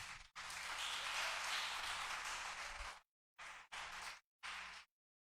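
A church congregation applauds during a Friday teaching service, a dense sustained round of clapping for about three seconds, then three short bursts of clapping separated by silence.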